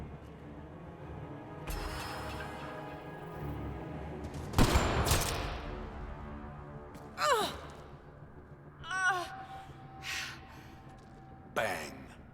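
A sniper shot in Mass Effect: Andromeda cracks loudly once in the middle of a quiet scene, with fainter bursts and effects following and voices heard around it.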